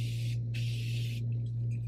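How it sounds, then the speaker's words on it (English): Two short bursts of Morphe makeup setting spray hiss close by as a fine aerosol mist, over a steady low electrical hum. "I'm gonna add a little bit of this Morphe spray again."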